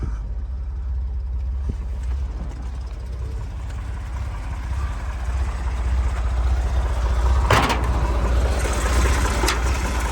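Chevrolet Corvair rear-mounted engine idling steadily in a convertible, a low rumbling drone close by with a couple of brief clicks and knocks near the end.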